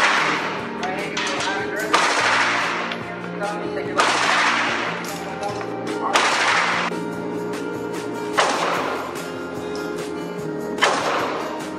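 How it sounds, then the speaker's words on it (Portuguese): Sharp bursts of gunfire crack out repeatedly, several volleys spaced a couple of seconds apart, with a busy background of music and voices. "esse barulho lá fora, lá dentro, é já é gente dando tiro"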